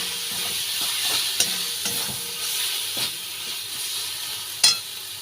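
Ghee being stirred in a hot frying pan while cooking cabbage, a steady sizzle with soft scraping strokes and a sharp clink of the utensil near the end.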